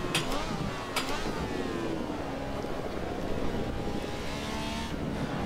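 Ferrari 312T race car engine at Imola in Assetto Corsa, a steady high-revving drone with rising and falling pitch through gear changes, loud and continuous with faint talk underneath.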